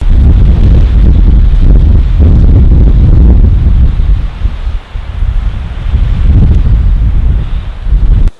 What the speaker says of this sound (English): That wind is just picking the snow up that's already fallen and laying on the ground.